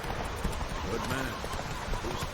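Roach, the horse in The Witcher 3, runs with a steady clip-clop of hooves under a muffled voice and in-game ambience.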